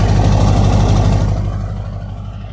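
An LB7 Duramax diesel pickup with a 5-inch exhaust idles close by, a steady, deep rumble with even low pulsing that eases slightly toward the end, no voices over it.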